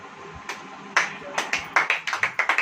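An audience at a church gathering claps, starting with scattered single claps that build into a quicker, steadier run of sharp claps, moderately close.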